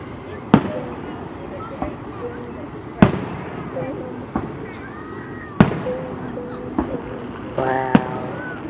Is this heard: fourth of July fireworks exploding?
yes